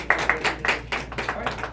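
A small audience claps for Rhonda at a home-buying information session, a short run of sparse, uneven hand claps.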